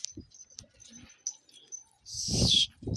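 Neighbour's pigeons heard as faint, scattered chirps and light calls, followed by a brief louder burst of wing flapping or fluttering near the end.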